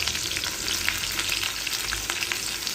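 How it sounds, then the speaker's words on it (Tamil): Small shallots and fenugreek seeds sauté in hot oil for a dried-fish tamarind curry, a steady close sizzle and crackle with no voices over it. "பொடி பொடியாக கட் பண்ண 4-5 சின்ன வெங்காயம் போட்டு அது பொன்னிறம் ஆகிற வதக்கணும்"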